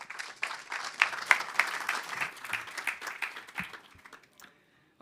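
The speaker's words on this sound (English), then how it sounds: "Please give Susan a round of applause." An audience claps for a speaker named Susan at a COP28 pavilion session, a burst of applause that swells, then thins out and stops near the end, with faint background voices.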